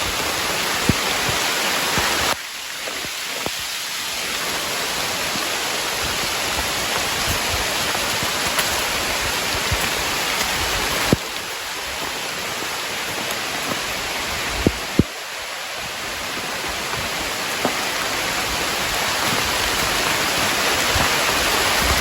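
Rain pours down steadily during mushroom picking in the forest, a dense, loud hiss that fills everything, broken by occasional nearby knocks and rustles.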